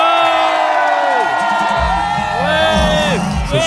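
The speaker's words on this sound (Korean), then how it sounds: "박수 함께 함성" A crowd at an autumn company sports day cheers and whoops loudly in long rising and falling shouts, with a constant noisy roar of voices underneath.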